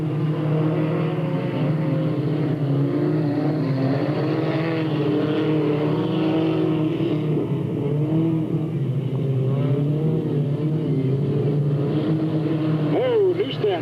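Race cars at Delta Speedway roar continuously at close range, engines droning and shifting pitch as the pack runs through the turns, under steady announcer-style commentary.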